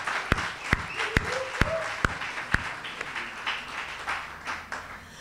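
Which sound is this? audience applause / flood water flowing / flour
audience applause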